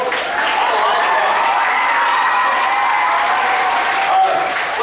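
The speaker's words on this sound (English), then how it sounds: "I thought everybody would stand up and applaud" A congregation claps in a thick, continuous round of applause, loud and even throughout with no letup and no clear voices on top.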